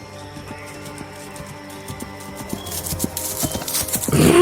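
Horse hooves clip-clop in a stage drama performance, a steady rhythmic clatter over a held musical backdrop that swells louder toward the end.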